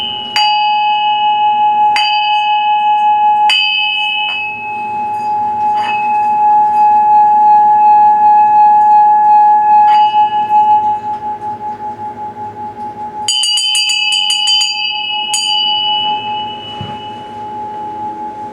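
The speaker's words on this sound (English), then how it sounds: "I'm going to ring my bell." A hand bell is rung alone several times, each bright metallic strike followed by a long ringing decay, with a quicker cluster of rings later on.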